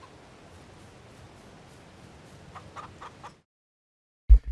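Chickens clucking in the farming video game Farming Simulator 22, a run of soft, close clucks under a hiss, then a brief silence before a sharp louder cluck.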